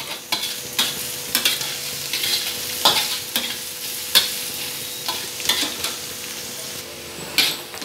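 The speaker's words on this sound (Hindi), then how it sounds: "ये देखिए, प्याज जो 2 कटा हुआ था हमारा, इसको हमने डाल दिया। अब इसको गोल्डन ब्राउन होने तक भूनेंगे।" Chopped onion fries in hot oil toward golden brown, a constant sizzle broken by repeated close scrapes and clinks of a spoon against the pan.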